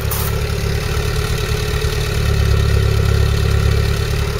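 A vintage car engine with its original, untouched carburettor runs steadily at a close, loud idle, a low smooth rumble with a slight swell in level partway through and no voices.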